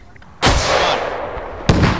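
Two loud, booming video game gunshots ring out close by, the first with a long rumbling tail and the second following about a second later.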